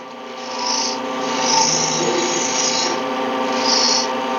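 Woodturning tool cutting a spindle down to one inch on a lathe, giving a steady continuous scraping whir with the motor's hum underneath, swelling and easing as the cut presses in, close by with no talk.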